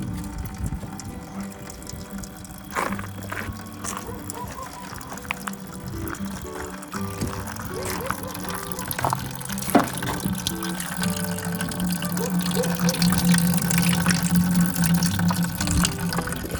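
Apple juice running and dripping from a loaded cider press, a steady close liquid trickle and splash mixed with low mechanical hum and occasional knocks, continuing throughout without speech.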